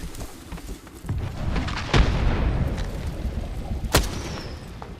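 Grenade blast in a battle royale shooter game, a rumbling boom swelling under a dense wash of gunfire and combat noise, with sharp cracks around it.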